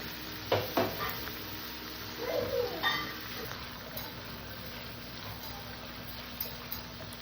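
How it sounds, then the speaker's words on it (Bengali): A spice paste for an eggplant dish is fried with a splash of water, giving a continuous sizzle with a few stirring knocks early on and a short faint squeak partway through. "হালকা একটু জল দিয়ে মশলাটা কষে নিলাম"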